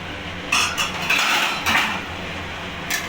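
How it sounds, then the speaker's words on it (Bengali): A metal lid comes off a cooking pot of shrimp-head and malabar spinach curry simmering on a medium flame, giving a few sharp close clanks and scrapes over a soft steady background hiss. "এবার ঢাকাটা খুলে দেখে নেব"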